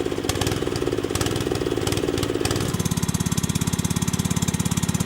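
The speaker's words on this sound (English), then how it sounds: "We can fit this HTP pump on mini tiller or any other engine of required capacity." A small engine drives an HTP sprayer pump with a busy, pulsing chug: first a cluttered mechanical clatter, then a steady rapid thumping drone, close and loud throughout.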